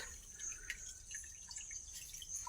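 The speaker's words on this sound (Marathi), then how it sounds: "पाणी हे एवढेच वाहत आहे हा बघा इथून हा जरा वाहतो आहे" Faint trickling water from a natural spring in a drought-prone area of Dharashiv, with soft, irregular drips and splashes, quiet and steady against a hushed outdoor background.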